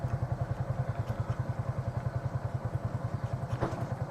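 TVS King auto rickshaw engine pulling away in first gear: a rapid, even thumping of a small engine, close and moderately loud, with a faint clunk near the end.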